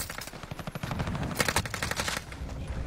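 Rapid automatic gunfire in a shooter video game: fast bursts of rattling shots at moderate level, with a denser, louder volley in the middle.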